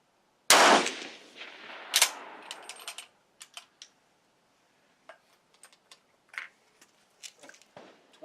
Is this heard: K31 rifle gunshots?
yes